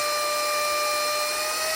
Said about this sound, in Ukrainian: Вмикається пилосос, затримавши кнопочку.